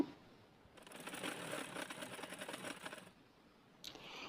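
A sewing machine runs a steady mechanical chatter of rapid stitches for a little over two seconds while hemming the bottom edge of a round dress, then stops with a brief click. The sound is close but quiet.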